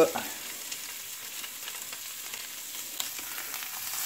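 Small burger patties frying over medium heat in a lightly oiled pan for a bacon burger, giving a steady, even close-up sizzle with faint crackles and no speech.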